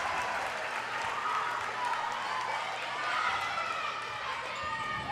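A large crowd cheers and applauds at a homecoming Saturday girls' volleyball game inside the Shipley Pavilion. The roar is dense and continuous throughout, with no single voice standing out.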